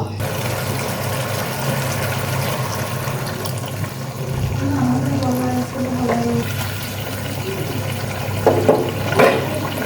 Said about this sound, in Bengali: আমি সামান্য পরিমাণ জল অ্যাড করে দিব